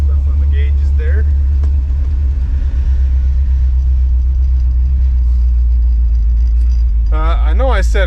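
A 1957 Chevy cruising through a neighborhood gives a steady, loud low engine rumble with road noise throughout, and a voice speaks briefly near the end.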